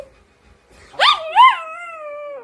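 A dog lets out a short rising yelp, then slides into a brief wavering howl, close and fairly loud, against near silence.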